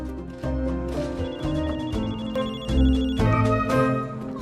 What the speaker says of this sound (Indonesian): Mereka juga menelepon Riley, namun telepon itu tidak diangkat olehnya.